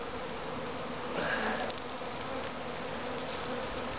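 A swarm of honey bees buzzes steadily in a dense, even drone, a wild colony being captured, with a slight swell in loudness midway and no talk.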